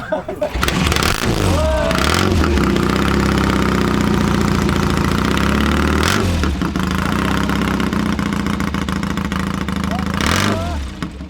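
A Triumph motorcycle engine revs repeatedly, loud and close, rising and falling in bursts over a steady idling rumble, with voices faintly underneath.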